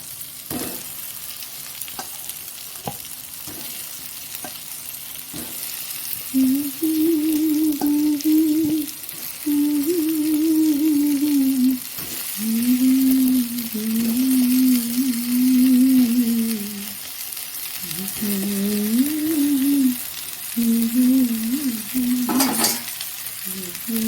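Potato pieces fry in hot oil in a pan for an egg dish, a loud steady sizzle close by with intermittent scraping stirs and a faint tonal hum running underneath.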